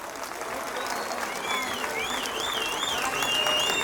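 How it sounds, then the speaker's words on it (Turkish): A concert audience breaks into steady, full applause with crowd noise, with faint wavering melodic tones above the clapping, growing slightly louder toward the end. "Kocaman bir alkış."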